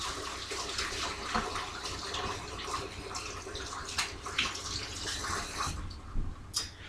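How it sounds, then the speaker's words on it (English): Hands being washed under a running kitchen tap, with a steady stream of water splashing into the sink throughout, close and fairly quiet, with small irregular splashes near the end and no talking. "Let me wash my hands here."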